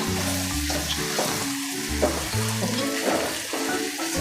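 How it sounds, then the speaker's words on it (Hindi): Chicken meat fries in a pan for sohanjana gosht, a moringa dish, with a constant close sizzle and occasional low clatter and stirring beneath it. "इसको हम लोगों ने 5 मिनट के लिए फ्राई करना है"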